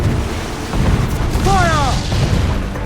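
Ship cannons boom in a naval skirmish in Assassin's Creed 4 Black Flag, a few heavy blasts over a rumbling battle bed, with shouting voices layered on top.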